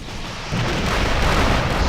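A sudden heavy missile blast in the video game Rival Rebels mod kicks in and rolls on as a sustained, thick rumble, loud and close, with nothing else audible.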